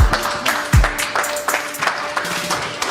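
Audience applause for a debater at a live debate, a dense spread of clapping that runs for a few seconds under low murmurs and thumps from the room.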